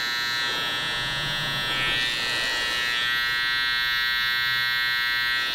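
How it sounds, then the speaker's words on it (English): An electric hair trimmer buzzes steadily over a comb during a drop fade haircut, a close, continuous high-pitched hum with slight shifts in tone as it cuts. "A bit of trimmer over comb just to sort of take out any longer bits"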